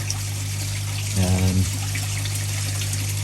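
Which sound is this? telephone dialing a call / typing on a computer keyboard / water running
water running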